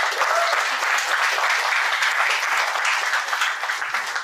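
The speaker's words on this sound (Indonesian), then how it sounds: "Kita kasih tepuk tangan sekali lagi untuk Ibu Mariko" An audience applauds after a business presentation, dense sustained clapping that stays loud and even before easing slightly at the end.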